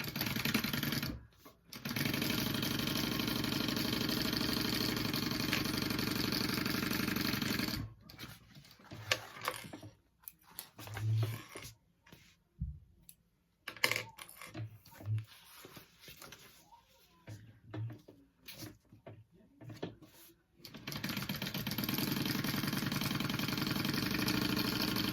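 A sewing machine stitches a quarter-inch seam along the top and bottom of a teddy backpack, giving long steady runs broken by a quieter middle stretch of pauses, shuffling and short bursts.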